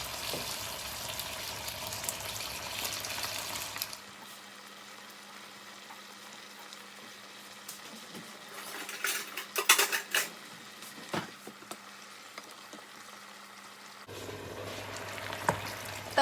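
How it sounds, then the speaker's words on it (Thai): Pork bones stir-fried with curry paste in a pan for a pork bone and pickled bamboo shoot curry: a soft, steady sizzle with occasional scraping and clinking of a utensil against the pan, fairly quiet. "ตอนนี้ค่อยๆผัดไปก่อนนะ"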